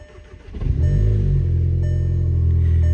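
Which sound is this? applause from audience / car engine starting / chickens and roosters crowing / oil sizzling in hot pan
car engine starting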